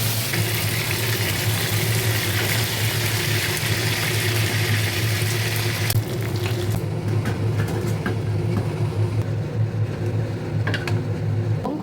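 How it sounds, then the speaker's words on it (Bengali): A wok heating mustard oil and butter for spice paste gives off steady broadband frying hiss, with faint clinks and scrapes in the second half and no talking. "এবার কড়াটা বসিয়ে দেব সর্ষের তেল আর বাটার দিয়ে ভেজে নেব"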